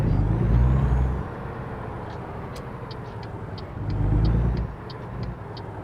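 A heavy truck in American Truck Simulator rumbles at idle, then its engine swells as it pulls away, with faint clicks and hisses from the cab over a steady low drone.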